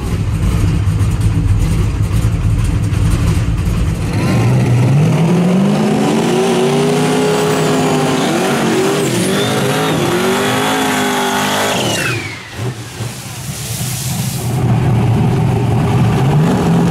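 Radial drag race cars on slicks launch and scream down the strip side by side, engines loud and revving hard, rising through gears before a brief dip and then returning at full roar.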